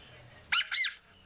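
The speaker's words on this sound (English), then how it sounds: "when you hit it, it makes a little squeaky sound" A little squeaky sound from the Kittens app on an iPod, two short high-pitched squeaks in quick succession, close and fairly loud over a quiet background.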